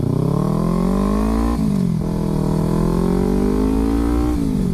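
A 2014 Kawasaki Ninja 300 fitted with an MGP aftermarket exhaust drones loudly while being ridden, heard from a helmet-mounted position, its engine note rising through the gears with brief dips at shifts.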